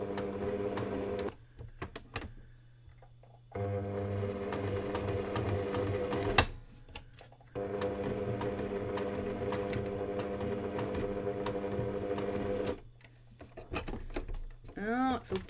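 A sewing machine runs in steady bursts as it stitches fabric, its needle swinging side to side in a zigzag setting, with pauses between runs and a person talking quietly over parts of it.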